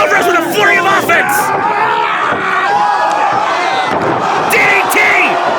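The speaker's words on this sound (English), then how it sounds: "Crowd calls for it." An indie wrestling crowd at a GMW show calls out and chants loudly and continuously, with dense overlapping voices, shouts and occasional slams.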